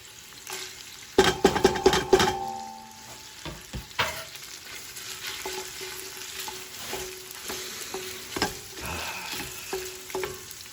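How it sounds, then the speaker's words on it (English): Sliced garlic sizzles and crackles in olive oil in a pan where spicy sausage was just browned, with several loud stirring clatters early on, then a steady frying hiss punctuated by occasional scrapes and taps. "A little olive oil. A whole head of garlic sliced."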